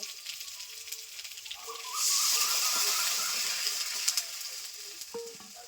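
Pointed gourd frying in a pan sizzles quietly until water is poured in, and a louder hissing, bubbling surge then follows and slowly settles, with a few clinks of a utensil.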